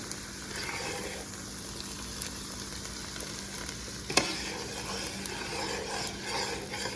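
A spoon stirs melted butter in a hot pan, making a steady, close crackling sizzle throughout with faint scraping and one sharp knock partway through, and no talking.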